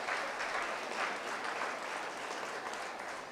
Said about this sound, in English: Let's give these members another really big round of applause.